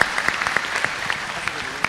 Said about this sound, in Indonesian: Tepuk tangan dulu dong untuk adik-adik di sana